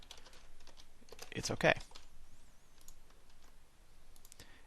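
Brief burst of computer keyboard typing, a quick cluster of clicks near the middle, set in quiet room tone with soft talk nearby.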